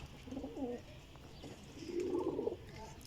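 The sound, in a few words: flying pigeons cooing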